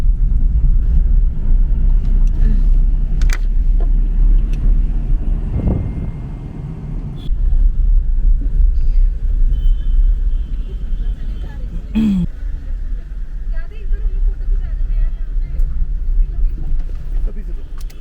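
A car drives along a road in Bhowali toward parking near the Naina Devi temple, with a steady engine and road rumble throughout and people talking inside.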